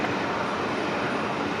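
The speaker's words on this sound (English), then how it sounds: "There it is, the A330 Neo." Airbus A330neo airliner at Brisbane Airport, a steady, loud broadband jet roar that holds even throughout without breaks, close by and with no voices.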